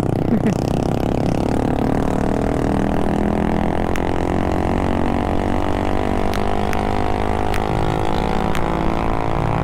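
Suzuki Gixxer motorcycle fitted with an Akrapovic full-system exhaust, revving at high RPM: a loud, steady engine drone held throughout with a few sharp ticks, no talk.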